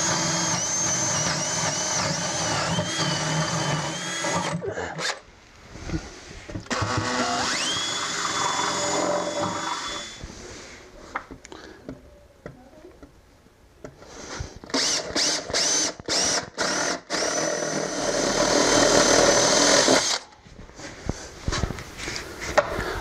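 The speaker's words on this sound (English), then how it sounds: "I'm actually going to drill a 1-inch hole through the floorboard" A power drill bores 1-inch holes through a wooden floorboard, loud sustained whining bursts that ramp up and down, with a quieter gap midway and a final long run broken by short stops.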